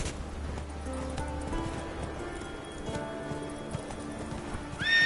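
Horse galloping in a PS4 video game, with steady clip-clopping hoofbeats and a whinny, fairly close, with no talking.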